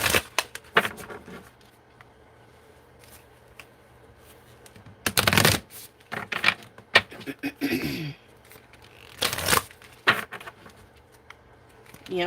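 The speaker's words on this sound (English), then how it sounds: "Let's pull a Moonology card." Moonology oracle cards shuffled by hand in several bursts of crisp riffling and flicking, close and fairly loud, with quiet gaps between the bursts and no talking.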